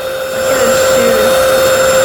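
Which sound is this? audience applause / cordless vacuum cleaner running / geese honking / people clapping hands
cordless vacuum cleaner running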